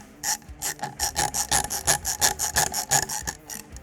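A screw driven by hand into an FN SCAR NRCH handguard: a close, steady run of short rasping, ratchet-like turns in quick succession, each stroke a brief scrape with small gaps, fairly loud and without talk.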